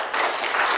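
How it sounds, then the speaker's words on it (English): Congregation clapping hands in praise during a church service, a dense burst of many hands rising after a brief pause and continuing steadily, close and fairly loud. "Give the Lord a hand clap of praise."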